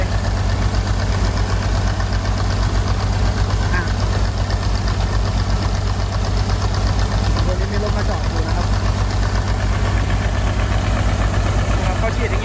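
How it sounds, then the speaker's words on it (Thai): An engine-driven pump sucks up sand during sand washing at a pit, giving a loud, steady mechanical drone with constant vibration throughout, with someone talking over it. "ฉีดไล่ทรายนะครับแล้วเครื่องก็จะดูดขึ้นไป"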